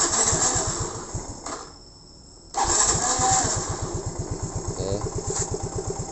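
Motorcycle electric starter cranking, then the engine catches into a close, steady idle. A fast rhythmic putter follows a brief gap, then a second crank that settles back into idle.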